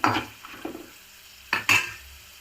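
Peanuts and roasted gram frying in a pan, with close stirring scrapes and rattles in two short bursts and no voices.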